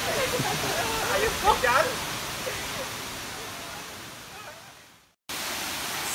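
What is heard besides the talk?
Kuang Si waterfall rushing water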